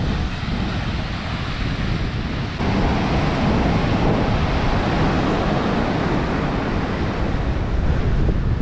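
Constant roar of surf with large waves breaking on a New South Wales beach, broad and rushing, mixed with wind buffeting the microphone.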